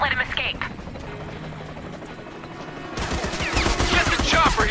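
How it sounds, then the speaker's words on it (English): Helicopter in the Army of Two video game during an escape scene, a steady rotor and engine drone under gunfire and shouted voices, swelling louder in the second half. "Guys, Ali Yusef is heading for the chopper."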